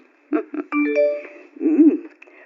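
A phone chimes with a short multi-tone text message notification in a home scene from an old Ilocano drama, ringing clearly on its own before a voice briefly follows.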